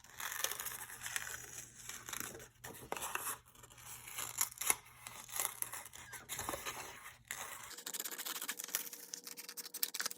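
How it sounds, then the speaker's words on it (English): Scissors cutting out a traced hand shape from paper, quiet close snips and papery crinkles in irregular bursts, with the sound thinning out near the end. "Now take your scissors and cut it out."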